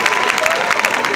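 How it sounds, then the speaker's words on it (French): Audience applause at a live stage performance in San Pedro, a steady wash of clapping sustained through the whole short moment without pauses. "Applaudissez très fort pour moi,"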